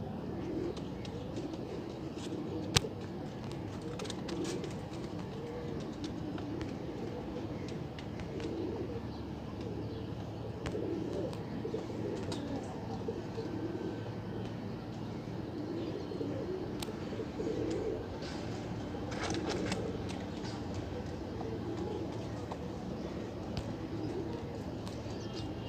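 Pigeons coo in soft repeated throaty bursts amid the bustle of a bird market in Multan, with scattered chirps and faint background voices throughout.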